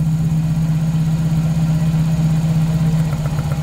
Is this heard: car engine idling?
yes